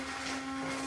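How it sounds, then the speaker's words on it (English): A handheld immersion blender whirs steadily while mixing hot cocoa, a loud continuous motor drone with a fixed pitch that holds for the whole short stretch, with no voices over it. "I'm gonna just take my immersion blender here and see how big of a mess I can make"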